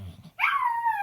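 A dog gives a close, drawn-out whimpering yelp with a falling pitch, following a brief low rumble, with no talk over it.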